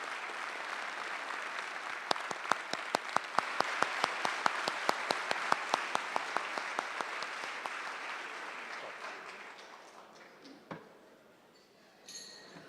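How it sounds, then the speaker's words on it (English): Applause from the audience at a US Senate candidates' debate, a steady wash of clapping with a few sharp nearby claps standing out, gradually thinning and fading before a brief sound at the end. "Let's give our candidates a round of applause for taking part this afternoon"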